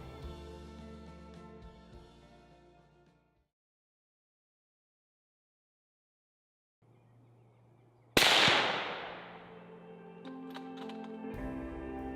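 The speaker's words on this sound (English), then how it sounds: "Moving quietly but quickly, Frederic closes the gap and prepares to take the shot" A single loud rifle shot at a muntjac buck during a deer stalk in the Northamptonshire countryside cracks sharply out of near silence and decays quickly, with faint rustling and movement before and after.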